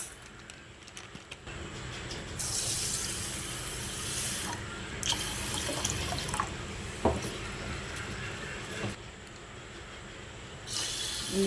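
Sago pearls rinsed in water for payasam, giving soft sloshing and swirling with a few sharper splashes and clinks, steady and close, with no talking.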